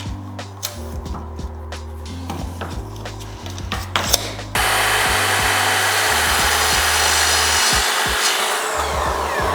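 Woodworking scene where thin MDF strips are cut for a small box lid: several seconds of scraping, tapping and handling noises, then a loud power tool kicks in and runs steadily to the end.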